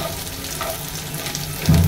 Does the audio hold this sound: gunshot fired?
no